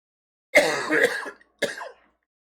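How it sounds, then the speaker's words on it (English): Someone clears their throat up close: a long rasping burst, then a shorter one. "Gotta clear your throat for this one."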